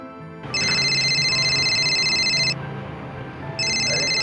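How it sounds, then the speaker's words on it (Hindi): A telephone rings for an incoming call, a bright electronic trill sounding loud and near in a long burst, pausing, then starting again. "बहना का फोन।"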